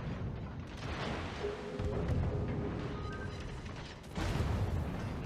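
Naval gunfire in World of Warships, a clan battle at sea: deep booming salvos and rumbling blasts under a dense, continuous battle din, loud and close throughout.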